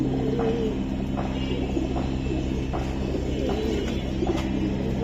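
Giribaz pigeons coo softly and repeatedly in a loft, with low rolling calls recurring every second or so over a steady hum of background noise.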